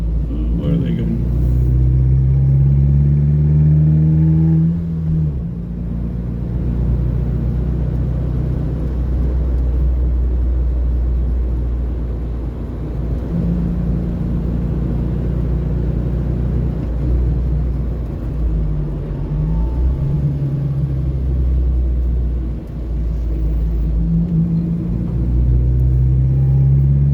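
A car on a leisurely Sunday drive through suburban streets gives a steady, loud, low engine and road rumble that drones on for the whole stretch, shifting slightly in pitch as it moves.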